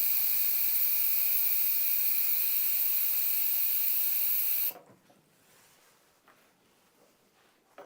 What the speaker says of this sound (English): That means all the steam is out. It's depressurized.